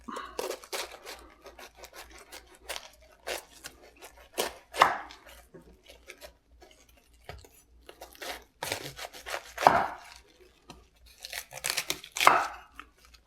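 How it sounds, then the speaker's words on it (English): A knife cuts through cabbage on a board in uneven bursts of crisp, crunchy strokes with short pauses between them, close up and with no speech. "first thing we're going to do is cut the cabbage up"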